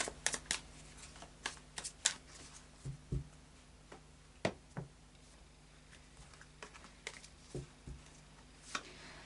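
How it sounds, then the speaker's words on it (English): Tarot cards are shuffled quietly up close, with soft irregular flicks and riffles scattered across the stretch against a faint low hum. "I'll just do a final shuffle of the Tarot of Dreams"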